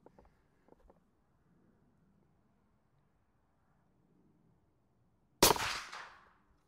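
A single loud gunshot bursts from a rifle fitted with a red dot sight, close and abrupt, with a short ringing decay after a long near-silent wait with faint handling noises.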